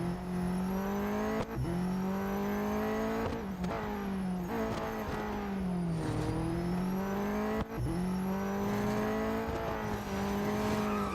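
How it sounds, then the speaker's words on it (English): Game car engine from Real Racing 3 roaring steadily at high revs, with pitch dips and sweeps as the car shifts and slides, tire squeal and skid noise mixed in; loud and continuous throughout. "That's how easy it is to lose it in this car. A bit of a skid there."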